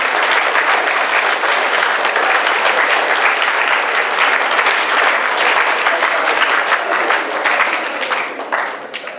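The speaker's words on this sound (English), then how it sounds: "I think we need a round of applause for our parents." An audience at a school academic awards assembly gives the parents a round of applause, loud, dense and sustained clapping that fills the hall before tapering slightly at the end.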